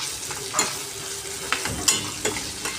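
Onion frying with ginger garlic paste in a pan for noodles made from leftover chapatis, a soft continuous sizzle broken by several sharp scraping stirs of a spoon, close and clear.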